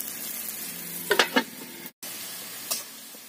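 Tomatoes fry in oil in a pan for a snakehead fish dish, with a soft, faint sizzle and a few brief bursts of crackling spatter, followed by a sharp cut and renewed quiet frying.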